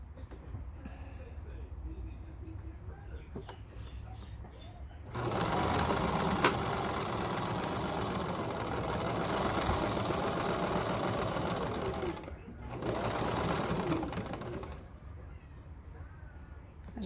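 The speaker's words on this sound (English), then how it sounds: "you're gonna sew this side and this side together" Sewing machine stitching a fabric seam three eighths of an inch in, running in two loud, steady bursts of rapid mechanical whirring, separated by a brief pause, with quieter stretches before and after.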